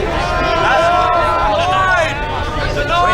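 A crowd of drunk, noisy teenagers gathers at a nighttime accident scene, a loud babble of overlapping shouting and chattering voices close by, continuous throughout.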